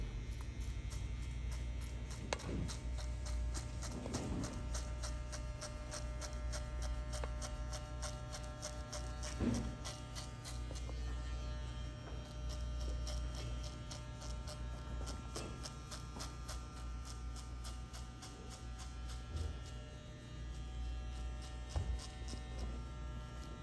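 Electric hair clippers with a 1.5 guard cutting a skin fade, a steady close buzzing hum that runs continuously, with faint brushing and clicks as the blade moves through hair and no talking.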